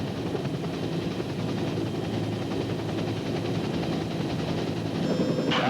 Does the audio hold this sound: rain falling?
no